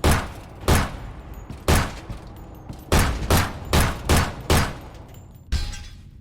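Pistol fire in the video game Nightmare of Decay: eight or nine sharp, loud single shots in an uneven rhythm, some spaced apart and some in quick pairs, with no talk over them.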